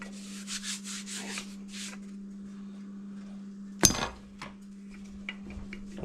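A rolling pin pressing floured pie crust dough on a countertop, with soft rhythmic rubbing strokes, a sharp clink partway through, and a steady background hum.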